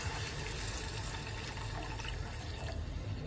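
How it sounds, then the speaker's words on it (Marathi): A steady stream of mutton stock being poured into a curry, a constant watery rush with a low rumble underneath, close and even in level from start to finish. "जे आपण पाणी ठेवलं होतं ना काढून त्याचं, ते थोडं घालायचं."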